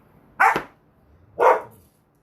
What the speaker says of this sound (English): Probably going to have to put my puppies outside.